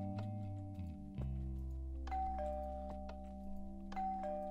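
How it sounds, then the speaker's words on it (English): A Minecraft doorbell rings a sustained two-tone ding-dong that changes pitch twice, with steady tones under faint clicks in a puzzle adventure map. "This doorbell seems to be something."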